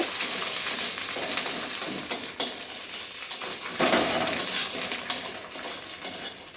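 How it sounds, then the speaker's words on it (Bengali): Onion stirred with ginger-garlic paste in a hot pan, a steady oily sizzle broken by scraping spoon strokes and light clinks against the metal, close and continuous with no talking. "তারপর পেঁয়াজের সাথে আদা রসুন বাটাটাকে একটু নেড়ে তারপর মশলাটা দেব।"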